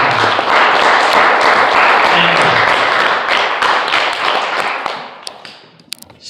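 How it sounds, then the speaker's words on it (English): A room full of listeners gives a speaker a warm round of applause after a talk to a group of young women at a Toastmasters event, steady clapping that fades out near the end. "applause. Thank you."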